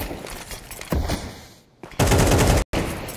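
MP9 submachine gun fire in Counter-Strike 2 during a professional match on Anubis, coming in loud broadband bursts with short gaps between them and a brief silent break near the end.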